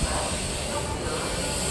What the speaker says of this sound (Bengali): দেহগড় এক্সপ্রেসকে সাইডে রেখে আমাদের ট্রেন কিন্তু বেরিয়ে যাচ্ছে